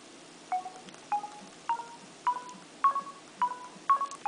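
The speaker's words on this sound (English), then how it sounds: "listen to how it sounds when you dial." Dialing tones on an LG Incite phone: a steady series of eight short, evenly spaced tonal beeps, each pitched slightly differently, played close and clear over faint background hiss.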